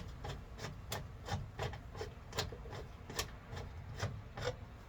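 A hand nut insert tool is tightened into a hole while fuel components are installed on a 2000 Honda Civic with a J35 V6. Quiet, regular rasping clicks repeat every third of a second or so, close and soft.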